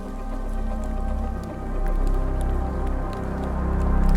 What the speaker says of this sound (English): The rain isn't as incessant, but it's colder and windier.